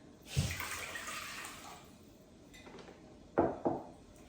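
Two cups of water are poured into a cooking pot to boil for rice, a brief splashing rush followed by a fading trickle, then a couple of sharp knocks from handling the pot. No one speaks.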